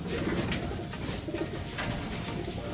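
Pet pigeons or doves cooing in a recovery hospital cage, repeated low throaty coos close by, steady through the moment with no talk.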